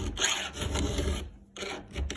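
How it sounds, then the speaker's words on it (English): A hand file rasps steadily across a chainsaw chain tooth, close and fairly loud, in long continuous strokes broken by a brief pause before filing resumes. "This is my favorite way to sharpen a chain"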